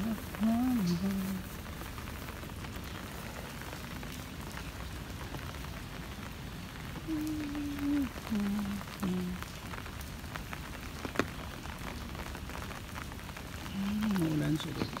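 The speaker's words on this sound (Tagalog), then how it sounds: "Maulan siya guys." Steady rain falls throughout a sudden shower during an outdoor walking tour, a constant hiss with occasional voices speaking briefly under it.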